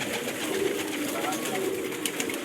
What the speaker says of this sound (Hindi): ये उनके ब्रीडर कबूतर हैं माशाल्लाह जी।